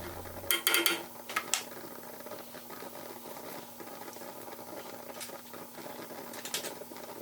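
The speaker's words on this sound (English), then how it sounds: "You want to mix around the ginger and garlic until you start to smell the" Ginger and garlic are stirred in a pan on the stove, giving faint scraping and light clattering, with a few sharper clinks near the start, under a low background hum.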